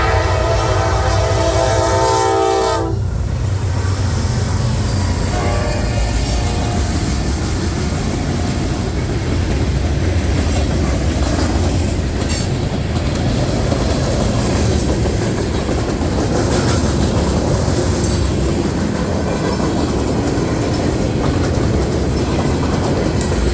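A Norfolk Southern freight train with an auto rack section passes close by, opening with a loud multi-tone horn blast for about three seconds, followed by a sustained rumble and clatter of wheels and cars rolling past.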